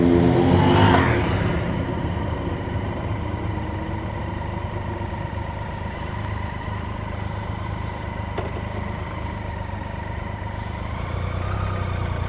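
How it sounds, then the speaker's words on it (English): Heavy motorcycle traffic on a Derbyshire country road, heard as a continuous loud engine roar and wind rush with a surge at the start, steady throughout with no talk. "there must be 300 bikes has just gone past here."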